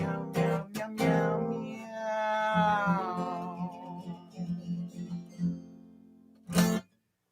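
People sing a song, their voices imitating a cat with a run of melodic meows, some short and some drawn out and sliding, ending on one loud sung meow before silence.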